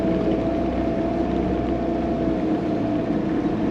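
A 4WD vehicle wades a deep river crossing over a rocky bottom with water near the tops of the wheels. A steady, loud engine drone and rushing water run without a break, and no one speaks.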